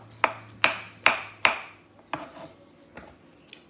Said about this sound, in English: We're just gonna rough chop these.